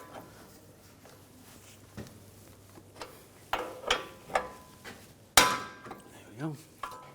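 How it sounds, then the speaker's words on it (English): Hammer strikes on a tie rod end of a 2011-2018 Volkswagen Jetta during steering repair: a series of sharp metallic taps, sparse at first, then harder and closer together, with a ringing clang near the end. "Now you can tap this with a hammer, try to get that out"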